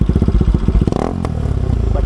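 A motorcycle idles and revs loudly up close, its exhaust popping and crackling in rapid uneven bursts.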